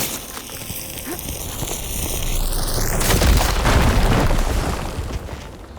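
A fire gleam deposit blows up in Horizon Forbidden West, a loud booming burst that rolls into a long rumbling roar after a rising synthetic tone, with heavy debris noise throughout.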